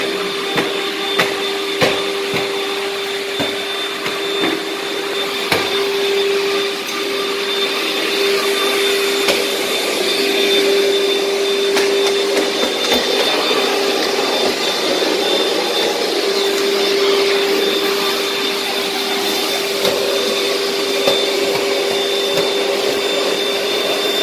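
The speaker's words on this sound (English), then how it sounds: "She's vacuuming all the floor tile in the kitchen" A vacuum cleaner runs on kitchen floor tile and hardwood floor with a loud, steady whine and a constant tonal hum, and the suction rises and falls slightly as it moves.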